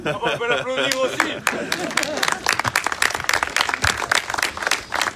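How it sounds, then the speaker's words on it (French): An audience at an energy conference applauds, a burst of sharp, dense clapping building after a spoken voice and continuing for several seconds with chatter and talk overlapping. "On peut l'applaudir aussi."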